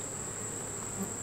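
Honey bees hum in an opened hive during a feeding check with algae pollen patties, a steady, even buzz holding throughout at moderate level with no voices.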